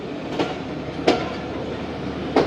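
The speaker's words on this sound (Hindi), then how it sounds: "ट्रेन का अराइवल हो रहा है मुल्तान कैंट रेलवे स्टेशन" A passenger train arrives at Multan Cantt railway station in Pakistan, giving a steady rolling rumble with three sharp metallic clanks from the wheels on the track, close and continuous, with no voices.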